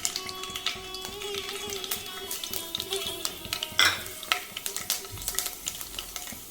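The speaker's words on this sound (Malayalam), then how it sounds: "ഞാനിതിലേക്ക് 1 സ്പൂണ് കടുകും അല്പം ഉലുവയും കൂടെ ചേർത്ത് കൊടുക്കുന്നു" Mustard seeds and fenugreek fry in hot sesame oil while making green apple pickle, giving a steady close sizzle with scattered pops and occasional spoon taps against the pan, with no talking.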